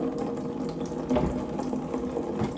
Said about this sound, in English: They go in a bowl of very hot tap water